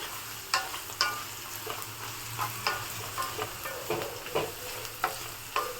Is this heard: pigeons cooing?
no